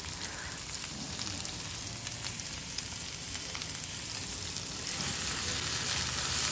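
Vegetables charring in a very hot cast iron pan give a continuous, dense sizzle and crackle that stays steady and fairly loud throughout, close up with no voices.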